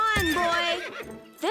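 A stallion in an animated horse series whinnies loudly and close, with a long shaky wavering call that fades out, followed by a short vocal burst at the end.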